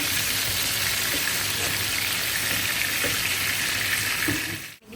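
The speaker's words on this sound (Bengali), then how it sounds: "আলুগুলো ভাজি করে নিচ্ছি" Potatoes frying in oil in a pan: a dense, steady, loud sizzle that runs unbroken for several seconds and then cuts off abruptly at the end.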